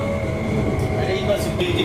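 A driverless Riyadh metro train rolls along with a steady rumble and hum of the carriage and a faint rising whine, heard from inside at moderate level.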